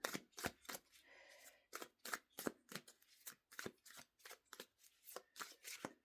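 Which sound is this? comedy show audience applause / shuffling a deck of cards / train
shuffling a deck of cards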